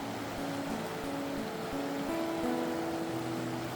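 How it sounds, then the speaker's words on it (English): A river stream flowing in the Black Hills makes a steady, even wash of rushing water. It carries on alone throughout with no voices. "Give you a nice little shot of the river here, the stream."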